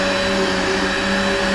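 A Hoover vacuum cleaner runs steadily while cleaning flat surfaces inside a 1988 Coachman Class B RV, a loud continuous motor whine with no voices.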